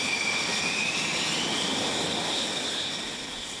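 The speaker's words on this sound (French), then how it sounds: "Le Rafale de Rox va être catapulté." A Rafale fighter jet roars with a loud, sustained high-pitched jet whine during catapult launch on the French aircraft carrier Charles de Gaulle, a steady engine blast that holds throughout and tapers slightly at the end.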